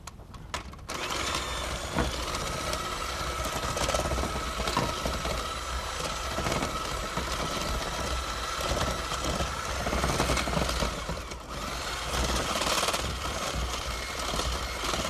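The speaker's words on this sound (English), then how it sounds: "Just using the handy dandy trusty hand mixer." A handheld electric mixer beats coffee cake batter, giving a steady, continuous motor whir with a gritty rattle from the bowl that runs nearly unbroken for the whole stretch.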